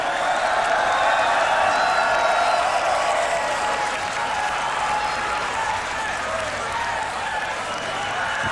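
Loud, sustained crowd applause mixed with cheering and whoops from a beatbox battle audience at the Grand Beatbox Battle 2021 finals in Warsaw, filling the whole stretch at steady intensity.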